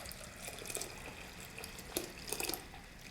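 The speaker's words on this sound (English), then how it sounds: "Coconut cream in the water, that now goes in." Coconut cream and water poured into a pan of sauteed rice, a soft steady liquid splash with a few brighter bursts, fairly quiet and close, with no talking.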